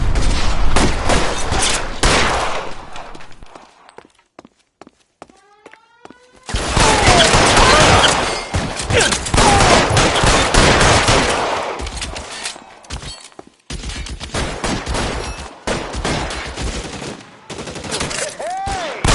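Loud, sustained automatic gunfire in a police video game, with dense bursts and volleys broken by a brief quiet gap, plus faint background speech.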